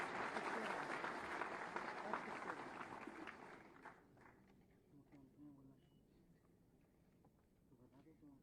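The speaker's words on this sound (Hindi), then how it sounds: "आप सबकी जोरदार तालियों के अभिवादन के साथ" An audience at a government appointment-letter distribution ceremony applauds, the clapping dense and steady for about four seconds before tapering off into quieter room sounds. The recording overall is faint.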